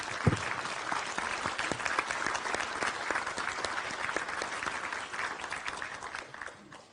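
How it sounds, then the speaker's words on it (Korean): An audience claps at a signing ceremony, sustained dense applause from a crowded room, steady for several seconds and then fading out toward the end. "큰 감사와 격려의 박수 한번 부탁드리겠습니다."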